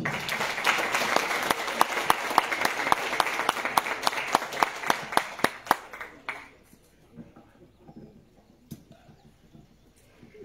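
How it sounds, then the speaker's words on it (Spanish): Audience applause welcoming a speaker at the opening of an ecological event: a moderate crowd claps with distinct sharp individual claps standing out, then the clapping fades out after about six seconds into quiet with a few stray claps. "La recibimos con un fuerte aplauso."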